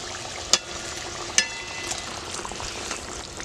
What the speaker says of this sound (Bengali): জলটা আমার ফুটে উঠেছে এবার আমি ভেজে রাখা মাছগুলো দিয়ে দেবো